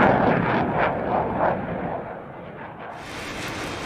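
A missile strikes an F/A-18 jet over the desert, and a loud, rumbling explosion roars up and slowly fades into a lower, steady roar.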